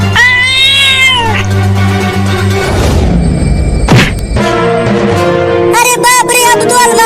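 Loud, close cat meows: a long wavering yowl at the start, a heavy thud in the middle, then a cluster of quick rising meows near the end.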